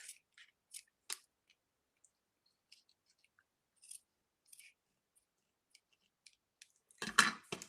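Scissors trim patterned paper for a card sentiment, giving a sparse series of crisp, close snips spaced out over several seconds, ending in a louder burst of rustling cuts.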